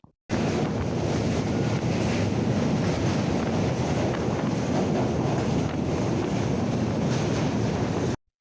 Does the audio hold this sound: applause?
no